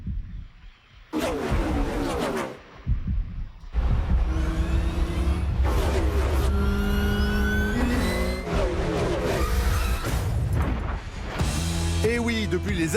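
Car engines roar and rev in a movie scene, with repeated loud accelerating bursts and rising whines over about thirteen seconds, mixed with other dramatic noise.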